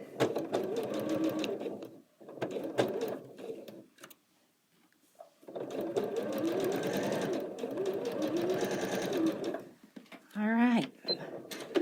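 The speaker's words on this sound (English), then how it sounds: "I'm going to sew on the line" A sewing machine stitching along a line runs in steady whirring bursts with a brief pause midway, close and clear, with faint talk nearby.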